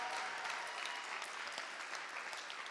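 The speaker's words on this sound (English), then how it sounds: "Give them a round of applause." An audience at a live fundraiser auction applauds after a lot is sold, dense even clapping heard at a distance and fairly faint, sustained without a break.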